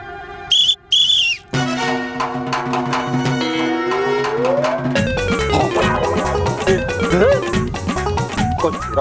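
A shrill whistle, the father's whistle in a superhero TV series, gives a couple of short, loud blasts near the start, then gives way to a swelling musical score.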